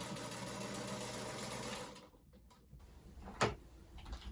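A sewing machine stitches quilt blocks together with a quarter-inch seam, a steady close whirring run for about two seconds, then it stops, leaving quiet room noise and a single brief clack.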